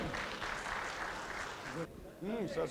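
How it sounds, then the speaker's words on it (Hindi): An audience at a corporate distributors' event in India gives sustained applause, a steady wash of clapping heard under an announcer's voice, with a brief pause before more clapping and talk. "जोरदार तालियां एक और बार एवरीबॉडी।"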